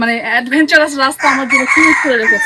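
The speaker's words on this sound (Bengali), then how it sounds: "মোরগ ডাকছে আমাকে, কিন্তু মোরগও ওয়েলকাম করছে।" A rooster crows loudly and close by, its harmonic call rising and falling and then breaking into a sustained cry, with a person speaking over it on a hillside dirt path near Madhabkunda waterfall in Bangladesh.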